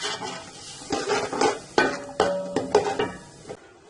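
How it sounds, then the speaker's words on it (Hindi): Ground spices being stirred and fried in ghee in a pan, with a steady sizzle broken by repeated scrapes and clinks of a spoon against the metal, close and fairly loud. "और इसको उस वक्त तक भूनते हैं जब तक ये मसाला घी ना छोड़ दे।"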